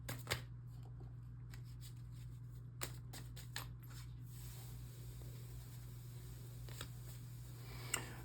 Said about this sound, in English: Let's pull some shadow cards.